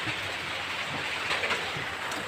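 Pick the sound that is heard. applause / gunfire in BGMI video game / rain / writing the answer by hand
rain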